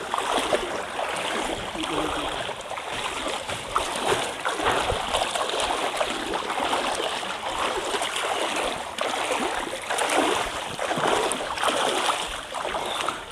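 Continuous splashing and sloshing as someone wades through knee-deep floodwater around a house near Umarpur bazaar, with rain and haor water flooding the yard; close, steady water churning with faint voices.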